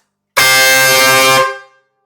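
A single loud air horn blast from about two meters away, a sustained harsh bright tone lasting roughly a second before trailing off, alone with no talk.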